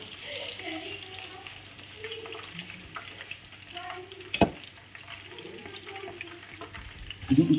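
Koftas frying in hot oil, with a continuous bubbling sizzle that stays close, plus occasional utensil knocks and a sharp clatter midway.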